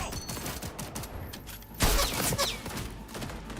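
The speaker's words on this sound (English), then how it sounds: "The gun shoots bullets, not lasers." Gunfire from a bullet-firing gun in the Cyberpunk video game crackles as a dense, loud burst of rapid shots, with a heavy thump midway through the clip before the shooting carries on under a steady hum.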